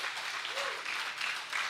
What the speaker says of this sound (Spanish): Dele palmas al Señor, hermano, dele palmas.